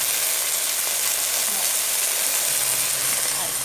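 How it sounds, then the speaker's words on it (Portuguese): Food steaming in a covered pan with a little water in the bottom, a steady broadband hiss and sizzle throughout, fairly loud and close, with no talk over it. "Eu vou colocar um pouquinho de água no fundo e ele vai, vou tampar. Aí ela vai cozinhando no vapor."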